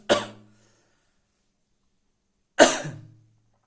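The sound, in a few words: cough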